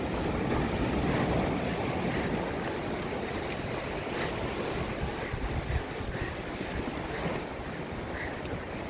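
Sea waves wash steadily onto a sandy shore beside a trail ultramarathon route near Ephesus, heard as a continuous rushing surf heavily buffeted by gusty wind noise on the microphone, with no voices.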